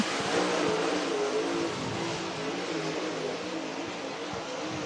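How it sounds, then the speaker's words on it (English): Race cars lapping a dirt oval at Cherokee Speedway in Gaffney, South Carolina, a steady loud engine roar with broad noise that swells slightly and then holds, heard from trackside with no talk. "Now all the drivers have taken the green flag as Jeff Smith comes around for his first lap"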